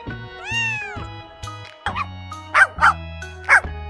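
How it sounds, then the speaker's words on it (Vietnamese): A puppy gives three sharp, high yaps near the end, close and distinct, after a lingering meow and over a soft rhythmic background beat. "Cú chó con."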